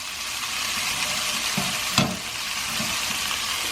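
Broccoli and soba noodles with toasted hazelnuts stir-fry on high heat, giving a loud continuous sizzle with soft scraping stirs and one sharper clack midway, close and without speech.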